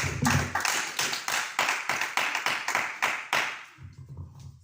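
A church congregation applauding to acclaim Jesus Christ, a dense burst of many hands clapping in steady waves that fades out after about four seconds, with no voices.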